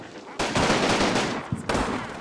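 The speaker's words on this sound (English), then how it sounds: "our infantry is trying to shoot everyone up" Infantry gunfire in the wargame Combat Mission: Red Thunder, loud bursts of automatic fire with sharp onsets and overlapping shots, the volleys repeating in quick succession.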